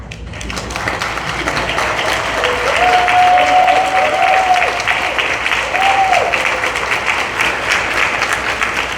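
A convention hall crowd applauds the service chairs and service subcommittee members at a Catholic Women's League convention in Ontario, a sustained, dense clapping that builds and stays strong for several seconds, with a brief tonal sound and faint voices underneath.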